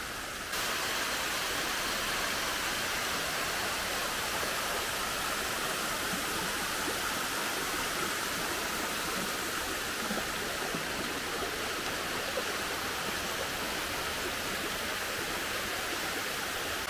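The Cachoeira da Água Branca waterfall on Ilhabela pours in a steady, full rush of white water, heard close and constant for the whole stretch with no voices over it.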